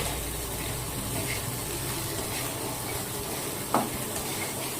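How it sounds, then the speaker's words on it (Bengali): Potatoes hit hot oil with nigella seeds and green chilli, salt and turmeric in a steel wok, giving a steady moderate sizzle broken by one sharp metal clank near the end. "কালো দিয়ে কাঁচা লঙ্কা ফোড়ন দিলাম, দিয়ে আলুটা দিয়ে দিলাম"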